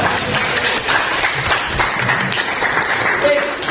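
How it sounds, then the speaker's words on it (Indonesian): Schoolchildren in a classroom lesson clap together in a steady, dense burst of applause that fills the space, with voices mixed in underneath. "tepuk tangan pegang semua"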